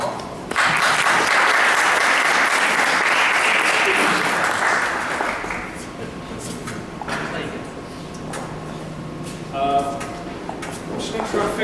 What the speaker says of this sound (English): So please join me in giving a very warm round of applause to Paul.